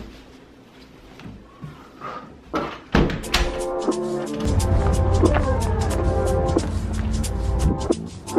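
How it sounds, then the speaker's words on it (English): A snow-bound, frozen-shut door is shoved and yanked repeatedly, giving loud sharp thunks and rattles, then a sustained scraping, straining noise as it refuses to open. "The door is frozen shut. We literally can't get it open."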